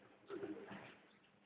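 A white domestic pigeon gives a soft, low coo close by, one short burst followed by a fading murmur and the start of another, quiet and alone.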